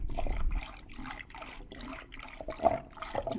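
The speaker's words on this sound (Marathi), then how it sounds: "आता मी थोडं थोडं पाणी टाकत जाते" Water is poured a little at a time into a besan mixture for kadhi, making a series of soft, intermittent splashing bursts, with a slightly louder splash near the end.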